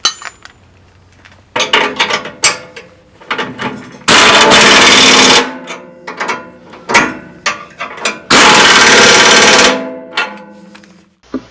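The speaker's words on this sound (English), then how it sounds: "I'm using the impact wrench on these." An impact wrench drives bolts down on a Tarter County Line 4-foot rotary tiller, with two loud sustained buzzing bursts set among clinks and clanks of metal parts, close up.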